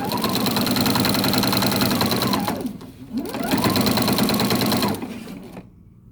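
A sewing machine fitted with a walking foot stitches rapidly along a quilting seam, its fast mechanical chatter pausing briefly midway before resuming and then stopping.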